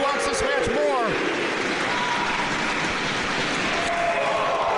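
A wrestling crowd at a Chicago pro wrestling event cheers and claps steadily as a broad, constant roar, with a commentator talking over it through the whole stretch.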